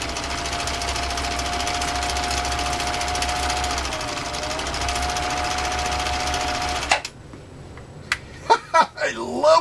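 A Husqvarna Viking Type 21 sewing machine stitches through three layers of genuine cowhide, running fast with a steady, loud whirring hum for about seven seconds before stopping, followed by a few light knocks.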